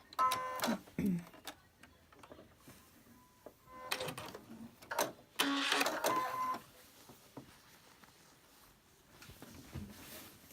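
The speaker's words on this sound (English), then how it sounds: "right here is hard to go through the sewing machine" A sewing machine stitching through pinned, thick quilt pieces, running in short bursts of rapid mechanical whirring separated by pauses and soft handling clicks, fairly quiet and close.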